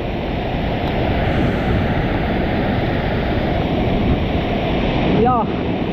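Floodwater rushes loudly and steadily at a flooded river crossing, a dense continuous roar with wind buffeting close to the microphone and a brief chirp near the end.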